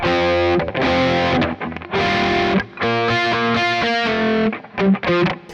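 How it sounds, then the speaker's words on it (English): Distorted electric guitar plays the intro riff of a song high on the neck, a bright upper-register part layered with other guitars, loud and sustained with brief gaps between phrases. "The next guitar is up even higher and a higher register, so you're mixing all these tones together."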